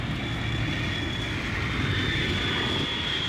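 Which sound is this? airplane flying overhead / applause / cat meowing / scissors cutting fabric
airplane flying overhead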